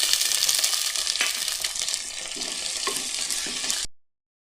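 Chopped garlic, green chili and shallots sizzling and crackling steadily in hot oil in a pan, with occasional stirring scrapes, close and continuous until it cuts off abruptly near the end.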